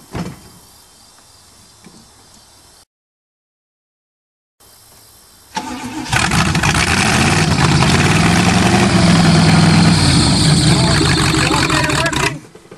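Old rusty Chevrolet engine being cold-started: a few quiet seconds and a brief silence, then a loud, harsh, grinding crank-and-run roar holds steady for about six seconds before cutting off abruptly.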